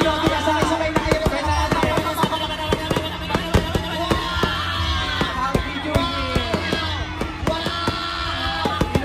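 A dense, continuous run of fireworks bursts at an outdoor celebration in Antipolo, with many sharp cracks and pops overlapping steadily as a crowd cheers and yells underneath.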